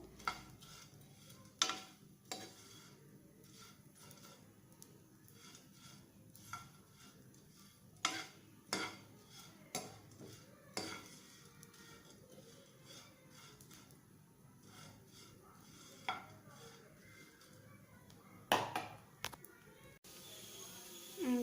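Small dried fish for a village-style karuvattu kuzhambu get stirred and turned in a pan, with scattered light scrapes and clicks of a spoon against metal at an uneven pace. Low, quiet handling noise runs underneath.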